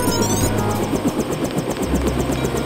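Helicopter in the video game Deus Ex, rotor blades chopping in a rapid steady rhythm over a low engine drone, loud and close throughout.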